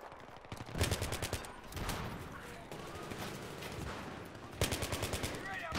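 Gunfire in the Battlefield 3 multiplayer video game, rapid automatic bursts with chattering repeated shots and a busy, steady battle din underneath, with a renewed burst near the end.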